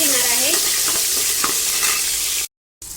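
Sliced onion and chopped tomato fry in a pan for mint rice, producing a loud, steady broadband sizzle with faint stirring scrapes, then a brief cut to silence near the end.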